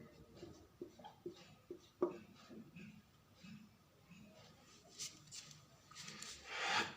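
Handwriting in quick, short scratchy strokes, a run of close, soft marks with brief pauses between words, fairly faint and with no talking.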